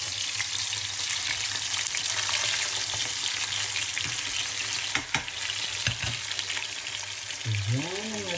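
Beef steak seasoned with salt, pepper and paprika frying in a pan, a steady loud sizzle with occasional sharp pops and a brief scrape near the end, with no voices.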